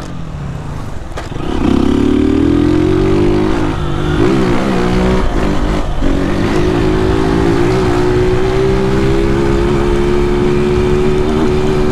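A motorcycle fitted with a tin exhaust pipe fires up after a brief pause and revs hard, a loud raspy drone that rises in pitch and holds close to the listener with no talking.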